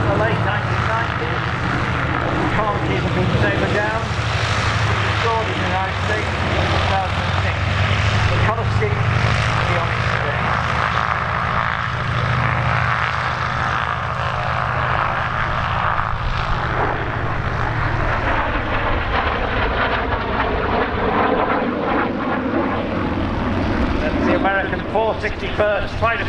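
A Sabre jet restored in the United States passes at an airshow, its loud engine roar swelling and shifting in pitch as it flies by, with a commentator talking over it throughout.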